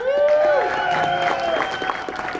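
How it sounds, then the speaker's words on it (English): Audience applause fills a hall at a Palm Beach County Sports Hall of Fame induction, a steady round of clapping that swells and then fades over a couple of seconds. "That clap was from everyone who knows me and knows what she has to deal with"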